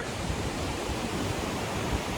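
Steady, dense rushing of the Laksforsen waterfall pouring nearby in northern Norway, a constant broadband roar with no breaks or voices.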